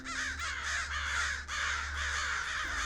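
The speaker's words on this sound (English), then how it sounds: "'cause I know the bird that I just heard must be a crow." A crow gives a run of harsh, rasping caws, loud and close, repeated in quick succession with a short break partway through.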